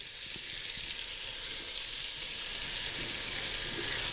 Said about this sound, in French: Et puis, on va y mettre les oignons.